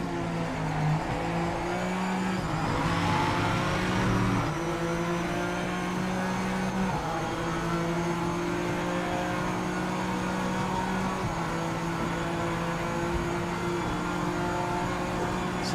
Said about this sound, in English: I can hear that Lambo in front of me.